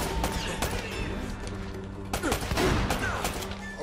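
Gunfire in the Uncharted video game, several sharp shots and crashing impacts over a few seconds, close and fairly loud against a busy game soundscape.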